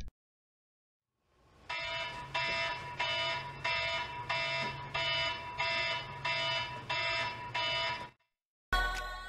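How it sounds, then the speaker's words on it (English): A 6 a.m. alarm clock rings in the morning, a steady pulsing beep that repeats about ten times in even bursts and then cuts off abruptly. "I'm usually awoken by my 6 a.m. alarm clock that I normally instantly put on snooze."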